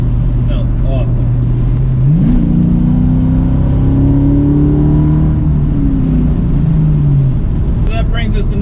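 A throaty Ford Mustang 4.6 modular V8 with an aftermarket exhaust revs up and holds a deep, rising drone, then eases back down, close and continuous.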